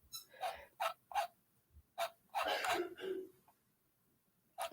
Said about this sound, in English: And my dog playing with her bone.